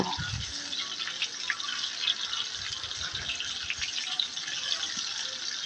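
Duck eggs frying in a pan for a spicy duck egg bhuna, giving a steady, close sizzling hiss with small crackles and pops throughout.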